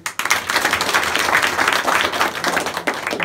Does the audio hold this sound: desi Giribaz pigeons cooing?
no